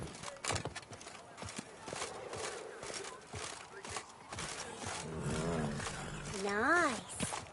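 The horse Roach walks in The Witcher 3, hooves clopping in a steady rhythm under scattered talk and game ambience, joined near the end by a rising whinny.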